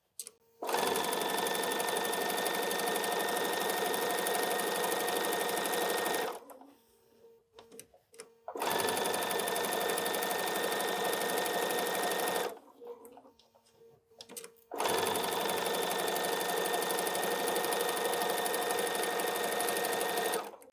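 A sewing machine stitches a jelly roll fabric strip for a quilt block in long, steady bursts of rapid mechanical stitching, pausing twice briefly between runs, close and loud.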